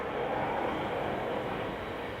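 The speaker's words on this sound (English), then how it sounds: "And the freaking train again." A train rumbles past close by as a steady, loud broadband roar that holds evenly across the whole stretch with no talking over it.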